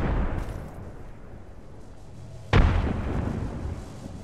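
Frag grenade blast in an online shooter game, a single sudden loud boom that cuts through steady background game noise and leaves a rumbling tail.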